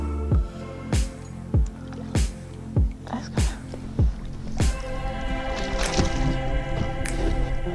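A boat is paddled away from a dock while bass fishing at Crane Prairie: about a dozen close, evenly spaced paddle splashes and swishes with water drips, then steadier water sounds as it moves off.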